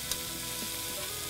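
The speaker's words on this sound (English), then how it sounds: "this is uncooked sausage, so we're gonna go ahead and put a little bit of brown on this" Uncooked sausage sizzling and frying steadily as it browns in a Dutch oven, a soft continuous crackle with no talking.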